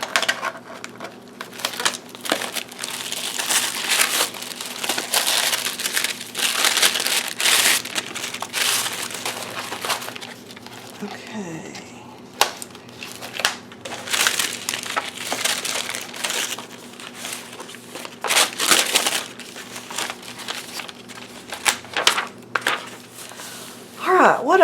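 Wax paper handled and crinkled during journal making with glue, giving repeated close papery rustles and crunches in bursts across the whole stretch, with a few pauses.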